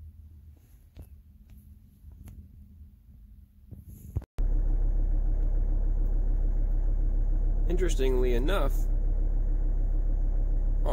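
Car engine idling just after an initial start, revving near 1,000 RPM; a quiet background rumble gives way to a sudden loud, steady engine drone, with someone speaking briefly over it.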